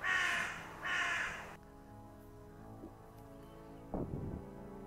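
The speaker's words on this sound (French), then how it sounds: "le son du corbeau" Crow caws from a horror video game, two loud harsh calls close together at the start, followed by quieter game ambience with a faint later cry.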